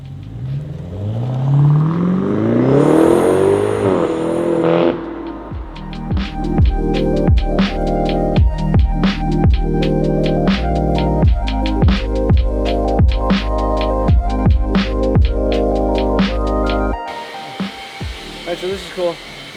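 A stage 1 tuned BMW 550i V8 revs hard in a custom shop, its whine rising and falling before settling into a loud, steady drone broken by repeated sharp crackles and pops, close up with no talk.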